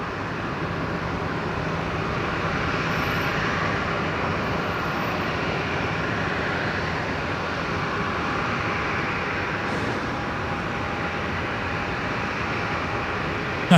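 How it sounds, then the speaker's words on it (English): An Emirates airliner approaching to land at Brisbane Airport produces a continuous, broad jet-engine roar that holds steady and fairly loud throughout, with no voices over it. "Emirates 4:30 coming in now on the Legacy"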